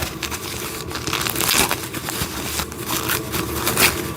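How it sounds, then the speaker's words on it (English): Continuous crinkling and rustling of packaging close by as pieces of a wooden train set are unwrapped, with no one speaking. "Let's unwrap this."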